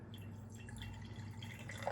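Clean water from a portable reverse osmosis filter drips and trickles into a jar, a quiet, close, continuous patter over a faint low hum.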